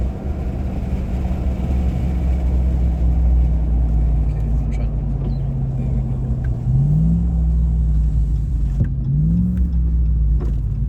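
Dodge RAM TRX pickup accelerating hard from a standstill to about 70 km/h, a loud continuous engine roar with rising pitch and two quick gear-shift dips, heard from inside the cabin.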